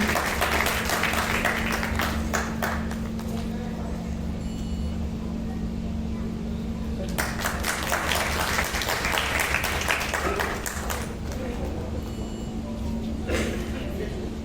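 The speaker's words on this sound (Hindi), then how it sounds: "हमारे बीच में जोरदार तालियां होनी चाहिए" Audience applause at an evening cultural gathering in Lucknow rises in broad bursts, swelling, fading and returning several times, with voices talking over it.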